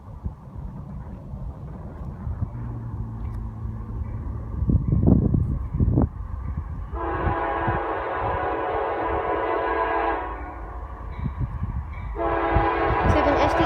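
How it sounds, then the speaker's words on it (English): A Norfolk Southern oil train led by three locomotives rumbles past nearby, its horn sounding in two long, loud blasts over the steady roll of wagons, with some wind buffeting the microphone. "Norfolk Southern, oil train."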